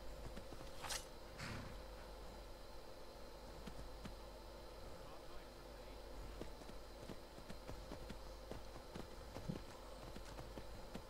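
A horse in bone armor trots in the Skyrim video game, its steady clip-clop hoofbeats faint and continuous under background noise, with someone talking briefly.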